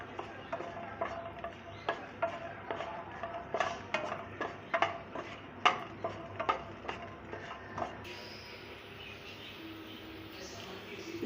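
Black peppercorns dry-roast in a hot pan, making a string of sharp, scattered ticks and rattles as they jump and skitter over the metal. The sounds are close and moderately loud, then taper off into quieter, smoother frying near the end.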